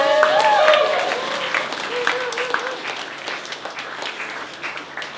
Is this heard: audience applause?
yes